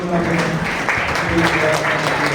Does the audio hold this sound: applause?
yes